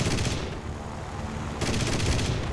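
Yak-9T fighter cannon fire in War Thunder arcade air combat, heard as dense rapid bursts at the start and again near the end, separated by a quieter stretch of engine drone.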